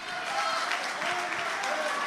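Church congregation applauding at a Pentecostal pastors' gathering, a steady dense clapping that holds evenly for about two seconds, with faint voices mixed into the crowd noise.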